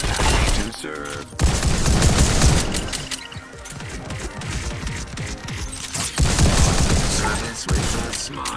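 Rapid, dense gunfire in the VR shooter Robo Recall, played with Oculus Touch controllers, loud and close, with bursts of overlapping shots, crashes and mechanical clatter plus brief game voice lines.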